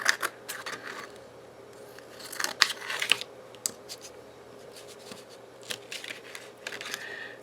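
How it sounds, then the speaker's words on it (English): Scissors cutting around the edge of a cured glass cabochon, a close series of small crisp snips and crunches in irregular bursts over quiet background, with no speech. "I just put the scissors right up against the edge and go around like this and cut"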